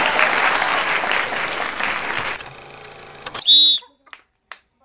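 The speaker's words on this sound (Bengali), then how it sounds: "সবাই হাততালি হবে" An audience at a prize game claps for a winner, close loud applause for about two seconds that thins and fades out, followed by a few brief sounds and then silence.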